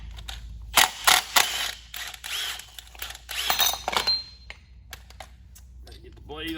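A ratchet works a 3/4-inch nut on a lawn mower spindle with quick bursts of clicking and metallic clatter, close up. Brief tool handling and a ringing ping follow, then the clip ends quieter.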